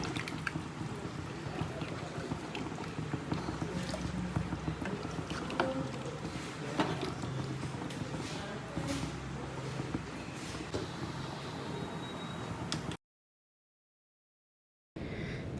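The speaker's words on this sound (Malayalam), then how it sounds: "ഇതാ നമ്മുടെ ഉരട്ടിയുടെ വെള്ളം തിളച്ചിട്ടുണ്ട്" Water bubbling at a boil in a pot on a home kitchen stove, ready for mixing rice flour into orotti dough; a steady, close, continuous churning hiss with faint clinks, alone without talk, ending in a short silent gap.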